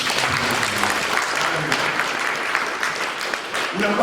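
A church congregation claps for the Lord in a sustained, dense round of applause that runs the whole time at steady loudness, with voices mixed into the crowd noise.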